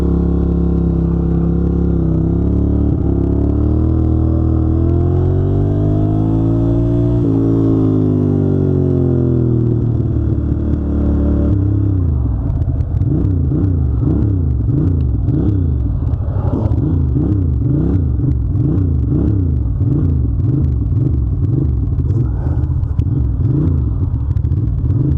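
Engine of a 1993 Ducati 750 Super Sport motorcycle while riding, loud and close, rising and falling revs in the first half, then an uneven chugging rumble with rattles as it keeps running.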